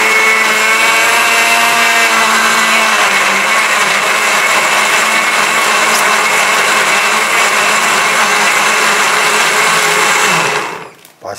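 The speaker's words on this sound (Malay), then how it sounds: "Siapa pandai blender? Cuba dengar." A loud electric blender runs steadily, grinding ingredients for a bamboo shoot curry, a continuous whirring roar that holds for about ten seconds before cutting off abruptly.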